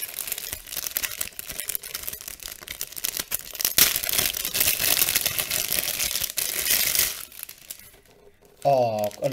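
A parcel opened by hand, with continuous crinkling and rustling of packaging close to the mic, a brief quiet spell, then a voice speaking near the end.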